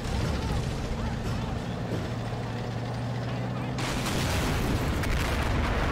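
Cannon fire and explosions boom through a steady roar of battle in the strategy game Army Men of War, heavy and dense, with a voice speaking over the noise.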